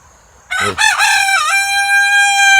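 A rooster in a hen house crows once, loud and close, a long drawn-out call that holds steady to the end with no other sounds around it.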